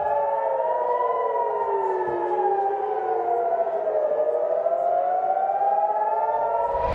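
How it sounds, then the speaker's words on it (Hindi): Air raid sirens wail continuously in Haifa, Israel, during an Iranian attack, several overlapping tones rising and falling slowly, loud and steady with no voices. "इजराइल के हाइफा में तो लगातार सायरन बज रहे हैं दोस्तों"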